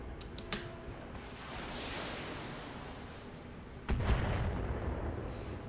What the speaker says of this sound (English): Get enough missiles in here maybe to finish off this turret.